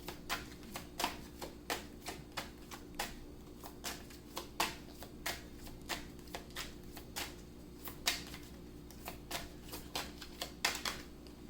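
Tarot cards shuffled at close range in a steady run of crisp riffling snaps and flutters over a low constant hum, with no one talking.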